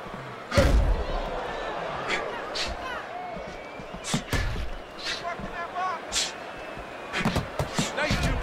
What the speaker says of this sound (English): The counterpunch landing by James.